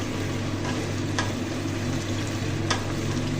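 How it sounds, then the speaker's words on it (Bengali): Tomatoes being stirred into sizzling chicken masala for chicken kosha, a steady frying hiss with a low hum underneath and a couple of soft scraping stirs. "এর মধ্যে আমি দিয়ে নিচ্ছি টমেটোটা দিয়ে ভালো করে নাড়াচাড়া নিয়ে"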